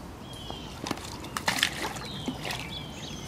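A puppy swims through water, with gentle sloshing and a few small splashes clustered near the middle, moderately close and fairly quiet, with no talking.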